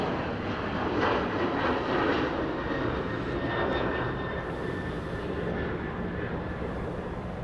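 A United Boeing 747 takes off from runway 24 left at Los Angeles International Airport, its engines producing a continuous loud, broad roar that holds steady throughout, heard from a distance.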